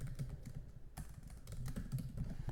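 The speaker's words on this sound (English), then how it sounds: "Okay, so now if I type in something else," Quick bursts of keystrokes on a computer keyboard as text is entered into a form, close and moderately faint, clicking in short irregular runs with no voice.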